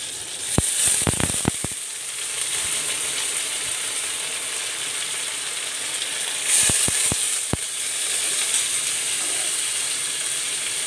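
Rice and lentils tipped into a hot pan with green chilies for khichuri, giving a continuous sizzle broken by two clusters of sharp clicks and scrapes of a utensil against the pan, close and loud, with no voices.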